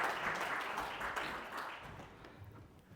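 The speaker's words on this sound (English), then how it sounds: "Big round of applause for Belinda, please." Sustained applause from a crowd, a dense patter of many hands clapping at steady volume that gradually thins toward the end.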